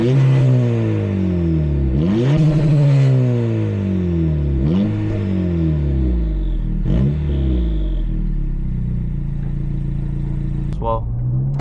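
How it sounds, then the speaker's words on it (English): An 11th-generation Honda Civic Si with a downpipe and tune revs its exhaust repeatedly, the engine note rising and dropping in several sweeping pulls, loud and close, before settling into a steady idle. "exhaust rev clip for you guys."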